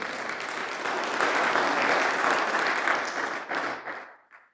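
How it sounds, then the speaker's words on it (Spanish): A church congregation claps hands together for several seconds, a dense close wash of applause that swells, holds, then thins out and fades at the end. "Fuerte las palmas para nuestro Señor."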